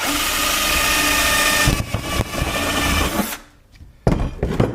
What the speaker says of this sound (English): I might as well drill a hole over here just to be safe